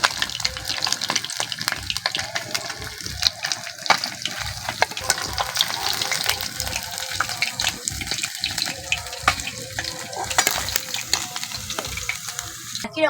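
Pabda fish fry in hot oil, sizzling and spattering loudly and continuously, with frequent crackling pops over a dense hiss and no voices.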